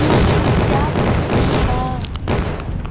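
Firecrackers going off with sharp, dense bursts of crackling bangs packed close together, loud and near, easing slightly toward the end.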